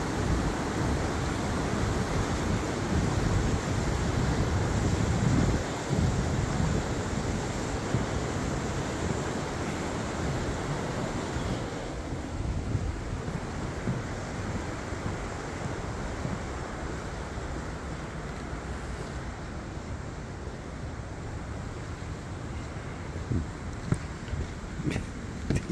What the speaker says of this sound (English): We're looking at rapids here.